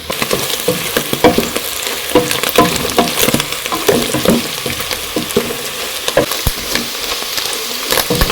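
Onions frying in a pot for tripe (matumbo) wet fry, not yet golden brown, giving a steady close sizzle with irregular crackles and spatters throughout, with no voices.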